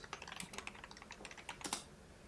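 Rapid typing on a computer keyboard, close and crisp, with quick irregular key clicks and a few heavier strokes in a quiet room.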